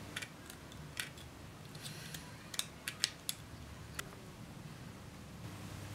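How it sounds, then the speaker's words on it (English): Hand snips cut brass sheet into individual keys for a MIDI wind controller. A sparse series of quiet, sharp metallic clicks falls at irregular intervals over a faint hiss. "And then I cut out the keys individually."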